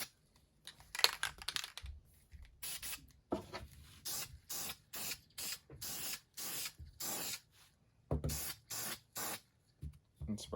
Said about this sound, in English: and spray it, and we're going to let that dry